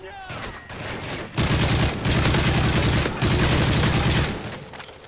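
Rapid bursts of automatic gunfire with booming explosions in Call of Duty: MW3 survival mode, loud and sustained in two long volleys, with a voice talking briefly at the start.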